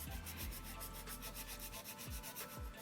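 A nail file scrapes across bitten fingernails in quick, even back-and-forth strokes, a close, steady rasping rhythm with no talk.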